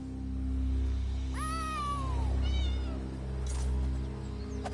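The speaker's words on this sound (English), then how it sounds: "Follow that cat!" A cat meows in The Elder Scrolls Online, Southern Elsweyr/Dragonhold, with two distinct meows over a steady low game-music hum and no talking.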